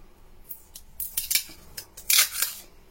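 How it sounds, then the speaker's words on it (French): Craft paper tape pulled from the roll and torn while assembling a miniature dollhouse haberdashery structure, heard as several short, crisp ripping and snapping bursts, close and alone. "j'utilise, vous savez, le scotch comme ça, craft, pour pouvoir rassembler ma structure"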